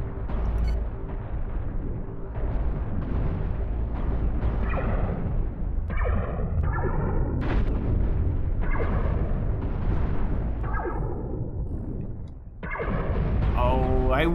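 In the space game Cosmoteer, a plasma rocket launcher fires a swarm of tiny missiles. Many crackling bursts and booms pile up into a dense, rumbling barrage, with a voice talking over it now and then.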